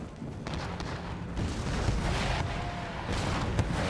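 Mortars fire explosive shells in a Total War battle game, a rumbling, dense wash of booming artillery reports and distant impacts rolling continuously at moderate loudness, with no voices over it.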